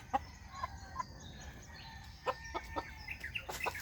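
A broody hen clucks softly and repeatedly in short bursts, with faint background ambience and no talking.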